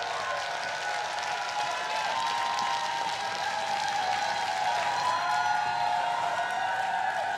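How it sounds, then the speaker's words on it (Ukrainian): Sustained audience applause and crowd noise fill a televised Ukrainian singing show before a contestant rides a mechanical bull, a steady dense wash of clapping at even loudness throughout. "Оплески ми починаємо!"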